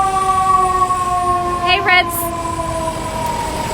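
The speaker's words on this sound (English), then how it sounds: "Sorry about the siren noise" An emergency siren wails outside, a loud sustained tone that holds steady and then fades slightly, with a short spoken greeting partway through.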